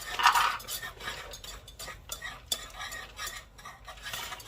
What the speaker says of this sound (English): And then I'm going to add 2 cups of chopped pecans.